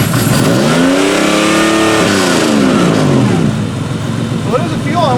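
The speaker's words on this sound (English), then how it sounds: "So go ahead and try and rev it." The engine of a rare 1990 Pontiac 6000 with factory all-wheel drive revs up loud and close, climbing and falling in pitch while it struggles with a suspected fuel problem, with voices talking over it.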